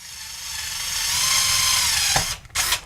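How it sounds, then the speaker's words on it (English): A power drill with a small bit bores a pilot hole for a hole saw on a console mockup, a steady close whirring whine running for about two seconds before two short bursts as the bit spins down and restarts. "you drill a small pilot hole"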